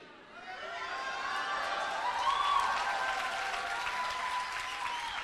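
Church congregation applauding during a sermon, steady broadband clapping that swells and holds for several seconds, with faint voices and cheers mixed in.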